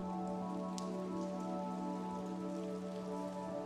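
Light rain patters softly and evenly on window glass in a quiet indoor spot, a continuous gentle hiss with a faint hum beneath and no voices.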